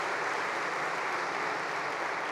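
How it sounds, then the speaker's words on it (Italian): A large business assembly of Confindustria Vicenza applauds as Italy's minister Adolfo Urso is welcomed, a dense, steady wash of many hands clapping at even loudness throughout, with no talking. "l'applauso qui dell'Assemblea di Confindustria di Vicenza"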